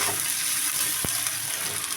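Chopped onion with plenty of chilli and garlic sizzles steadily in a pan, a close, continuous frying hiss with one brief sharp clink partway through.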